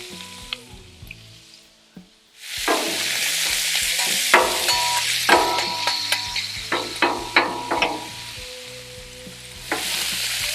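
Bacon frying on a Blackstone flat-top griddle, a steady loud sizzle broken by repeated sharp scrapes and taps of a spatula spreading the strips into a single layer, after a quieter opening.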